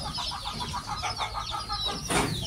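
Chickens cluck and murmur around a feeding trough filled with corn dust on a farm in the morning, shared with buffalo, with scattered close clucks over low background rumble and a brief louder squawk near the end.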